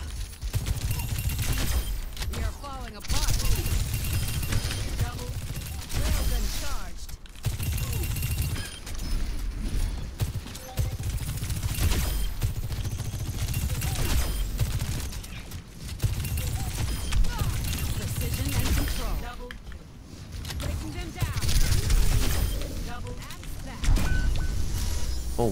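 Rockets firing in Overwatch 2, heard as loud, repeated bursts and blasts in a dense stretch of game combat noise that continues for about half a minute with brief gaps.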